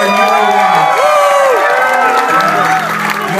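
Wedding guests at a reception cheer and whoop loudly for the newly married couple's entrance, with a dense crowd roar and excited shouts, while a voice over the sound system rises and falls through it.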